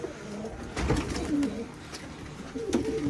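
Soft coos and rustling from pigeons close by, a few low cooing calls spaced apart over a quiet background.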